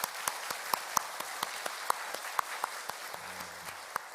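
A church congregation claps in blessing for newlyweds during a Sunday worship service, a sparse, fairly quiet round of individual hand claps in an irregular rhythm, a few sharper claps standing out near the front.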